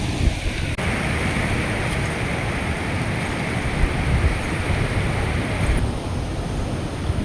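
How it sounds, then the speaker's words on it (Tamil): Strong wind buffets a hillside, a loud, steady rushing roar that blows continuously with brief gusty surges. "பயங்கரமான ஒரு காற்று."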